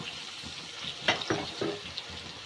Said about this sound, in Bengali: এইভাবে ভালো করে একটুখানি কষিয়ে নিতে হবে।